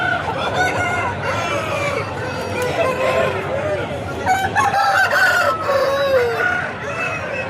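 A Tamil Nadu breed rooster about eleven months old crows loudly at a busy Sunday hen market, with other fowl clucking and crowing around it and people chattering under the calls.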